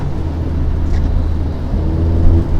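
A 2021 Mercedes-AMG GLA 45 S 4MATIC+ drives in race mode, heard from inside the cabin. Its loud engine and road noise form a dense, steady drone that swells slightly near the end, with no voices.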